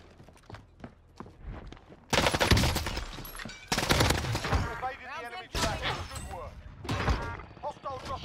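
Rapid bursts of automatic rifle fire in Call of Duty: Warzone, loud and close, in dense rattling volleys that stop and start across the clip, over quieter footsteps and thuds at the start, with a voice talking briefly in between.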